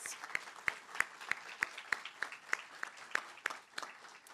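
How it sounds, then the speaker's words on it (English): Slow, sparse clapping at a steady beat at an honors ceremony, a few distinct claps spaced about a third of a second apart, fairly faint and without voices. "give a round of applause to faculty, to families, to communities"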